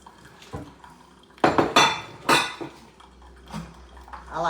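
Dishes are washed in a kitchen, with pots and cutlery clattering and clinking in uneven bursts and a few faint splashes of water between louder knocks.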